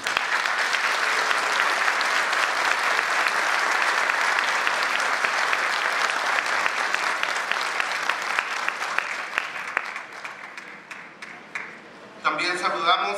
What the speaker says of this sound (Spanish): Quiero que le brindemos un fuerte aplauso a nuestro diputado